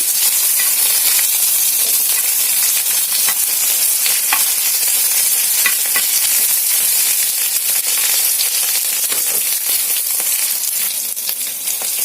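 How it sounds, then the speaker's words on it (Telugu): Garlic, green chilies and okra pieces stirred in a hot pan for a bottle gourd curry, giving a loud continuous sizzle with frequent spatula scrapes and clicks throughout, no talking. "వెల్లుల్లి, పచ్చిమిర్చి, బెండకాయ ముక్కలు ఇవన్నీ కూడా కలిపేస్తాం"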